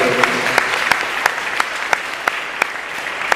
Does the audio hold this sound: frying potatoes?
no